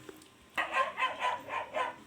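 Neighbours' dog barking in the background during a GTA V play session, about five fairly regular barks in quick succession at moderate distance, alone without talk.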